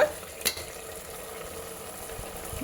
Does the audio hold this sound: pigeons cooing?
no